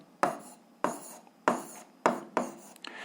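Chalk or pen strokes on a board or paper while a physics formula is written out, five short scratchy bursts in an uneven rhythm, close and clear with no talking.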